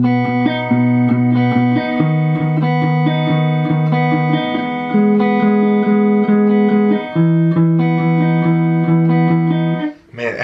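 Guitar playing the bridge of a song: ringing chord shapes held a couple of seconds each before changing, close and clear with no voices, ending with a brief scrape.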